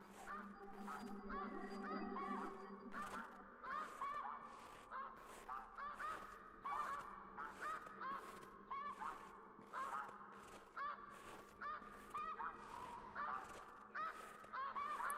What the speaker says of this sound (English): there are the snow geese coming back for another pass